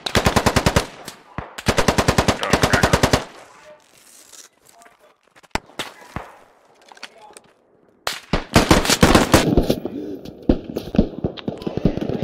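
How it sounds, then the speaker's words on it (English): Machine gun fire in the Squad video game comes in loud rapid bursts at the start, then scattered single shots and distant pops, then another heavy burst near the end. "that sounds like a machine gun right in front of me"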